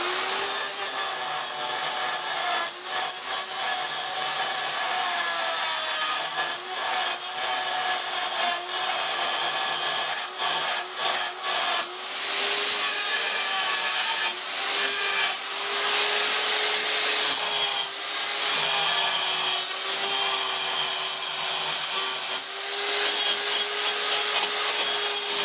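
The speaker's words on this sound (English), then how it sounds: "Just use a carbide burr to remove some of the" A carbide burr grinds rust off a lathe compound in one continuous, steady high-pitched rasp, close and loud, with brief dips in intensity along the way and no speech.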